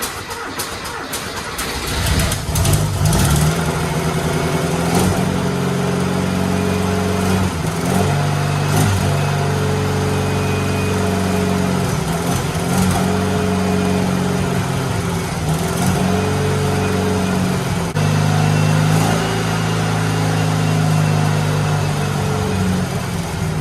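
Turbo Porsche engine in a budget rat rod running rough on bad gas, a steady, uneven idle with stumbling pulses and intermittent clatter, close and continuous.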